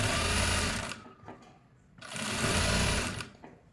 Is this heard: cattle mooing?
no